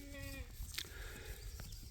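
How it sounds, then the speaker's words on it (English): A farm herd of goats and sheep sounds faintly, with one wavering bleat over a low, steady outdoor background and a few soft knocks. "So we call it the goat herd."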